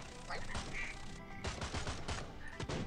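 A duck quacks repeatedly in the mobile game Swamp Attack 2, its bright calls layered over dense bursts of in-game gunfire and busy action sounds.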